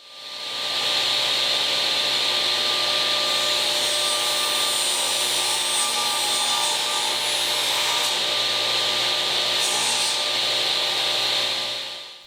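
A Delta 36-725T2 table saw fitted with a new alternating-tooth, low-friction-coated blade cuts through wood, giving a loud, steady whining rasp that holds evenly for about eleven seconds before stopping.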